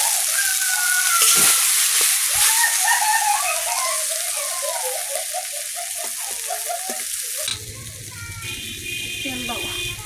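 Eggs fry with raw green mango in a pan for a scrambled bhujia, a loud close hiss of oil crackling steadily while people talk over it.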